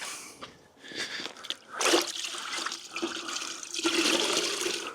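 A car gets a water rinse during a winter maintenance wash, with sloshing, splashing bursts of water that swell and ease over a few seconds, close by, with no voices.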